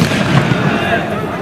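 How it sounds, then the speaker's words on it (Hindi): Rubber bullet fired outdoors during a police riot-control mock drill, a dense burst of sharp cracking reports layered over crowd noise and a talking voice throughout. "अभी रबर बुलेट का फायर हुआ।"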